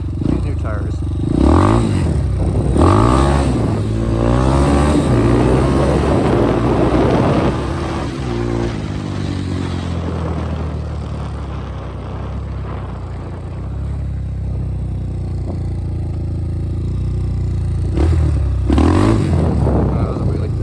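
A Magician 250 motorcycle on new tires is ridden hard, its engine revving up and down through repeated throttle surges with wind noise and a rising pitch as it accelerates.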